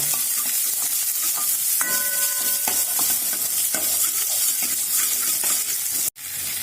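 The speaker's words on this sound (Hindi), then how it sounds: "1 प्याज लिया है मैंने और इन्हें फ्राई कर लेंगे।" Sliced onion frying in hot oil with crackled mustard seeds, a steady loud sizzle with a few scraping stirs and short tonal clinks, running almost unbroken before a sudden brief cutoff near the end.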